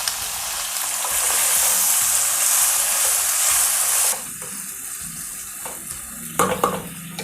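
Plantain pieces with sambar powder sauté in a pan, a bright steady sizzle that drops away sharply partway through, followed by quieter clinks and scraping handling sounds.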